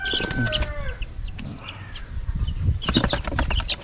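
Boston Sweater gamefowl chickens cluck and call close by in a new cage, with short bursts of clucking and scratchy movement throughout.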